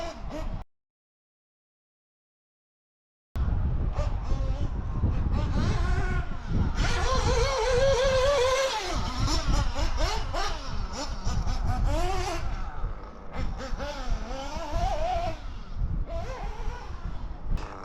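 Nitro RC engine warming up and revving, loud and close, with rough rising and falling revs after a short silence near the start, running on steadily to the end.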